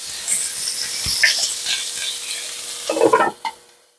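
Lamb chops sizzling in a pan with a cover put on, a bright hiss that fades as the lid settles, a clank of the lid and a few soft pops near the end.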